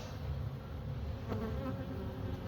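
Honey bees buzz around a hive at an apiary in autumn, a steady low droning swarm sound that stays close and even throughout with no talk.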